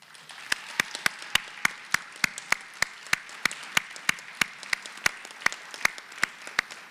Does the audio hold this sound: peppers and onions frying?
no